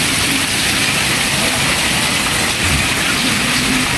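Heavy typhoon rain falls steadily in Bulacan as floodwater sits out front, a continuous dense hiss of downpour with a low engine-like rumble underneath and no talking.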